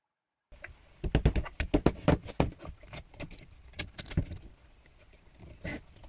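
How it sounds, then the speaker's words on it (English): A cut-down metal sleeve anchor rattles loosely on a bolt in a homemade geared head for a gaming wheel, giving rapid, irregular metallic clicks and clinks close by, with no talking. "you can pretty much use it just like that if you don't mind it rattling like mad"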